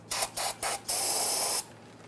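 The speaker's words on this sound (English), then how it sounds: "We're going to use some parts cleaner." Parts cleaner sprays onto the threads of a tie rod sleeve on a 1994-2001 Dodge Ram 1500: four short hissing bursts, then one longer sustained blast, close and loud.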